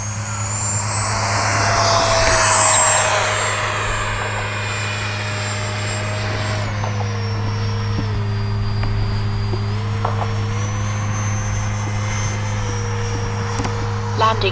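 A Freewing A-6 Intruder 80mm electric ducted-fan RC jet takes off with takeoff flaps set, its whining fan loud and shifting in pitch as it climbs out, over a steady low hum.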